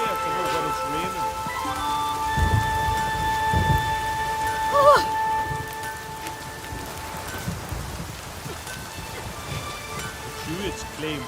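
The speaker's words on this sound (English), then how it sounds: "Storm, damn it." Steady rain patters down with low rumbles of thunder in The Witcher 3: Wild Hunt, and faint tonal music or voices drift underneath.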